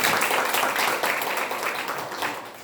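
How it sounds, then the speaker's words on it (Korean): Sustained congregational applause fills a church healing retreat hall, a dense steady wash of many hands clapping at once that tapers slightly toward the end. "자, 먼저 우리 하나님께 큰 박수 영광 드리겠습니다."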